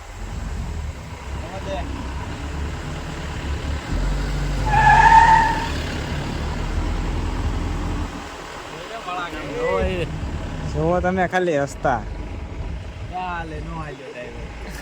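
A car rounds a curve on a road to a temple, its engine a steady hum under continuous talk, swelling briefly in the middle with a tyre-like squeal before settling back.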